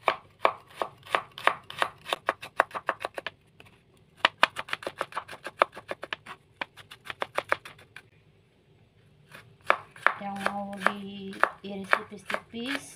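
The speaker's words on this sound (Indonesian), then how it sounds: "kita iris dulu bawang putihnya" Garlic cloves sliced with a knife on a cutting board: quick runs of sharp, close taps in steady rhythm, pausing briefly before another burst, with some kitchen clatter near the end.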